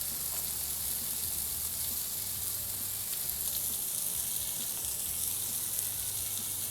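Masala-coated fish frying in oil in a pan, a steady dense sizzle with faint crackle running evenly throughout, close and moderately quiet with no voices.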